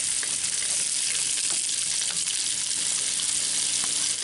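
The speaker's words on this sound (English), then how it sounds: "Stir them around a little bit so they get coated with some olive oil first" Rabbit pieces sizzle and crackle in hot olive oil in a Dutch oven as they are stirred, a loud, close, continuous frying hiss with occasional scrapes and pops throughout.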